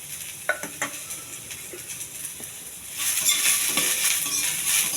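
Cumin, mustard seeds, onions and curry leaves fry in oil for a ridge gourd curry, with a few sharp stirring clicks at first, then a louder steady sizzle that swells and holds to the end.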